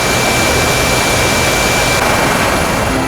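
A helicopter carrying disaster relief aid at Kualanamu Airport in Medan, North Sumatra, gives off a loud, steady roar of engine and rotor noise that fills the whole stretch without a break.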